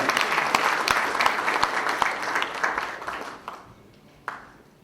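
A hall audience at a party training event bursts into loud, dense applause for a party leader, the clapping thinning out and fading toward the end with one last isolated clap.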